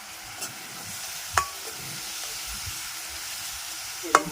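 Mustard seeds and spices crackle and sizzle in hot oil over a steady frying hiss, tempering for lemon rasam, with a few sharp pops and spits, close by.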